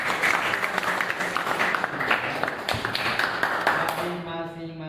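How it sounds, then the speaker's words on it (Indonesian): A classroom of students in Indonesia claps for the student groups: dense, steady applause lasting several seconds, fading at the end as a tone rises. "berikan aplaus yang meriah untuk"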